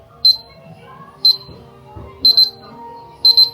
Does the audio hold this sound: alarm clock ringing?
yes